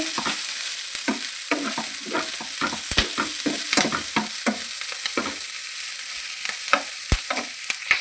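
Spices and urad dal fry in a pan for sambar, a constant close sizzle broken by repeated scraping strokes of a stirring spoon, with no talk.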